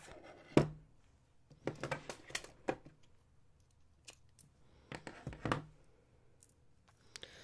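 Scissors snip through a strand of beads in a few separate sharp cuts with quiet pauses between them, close and clear, with no talking.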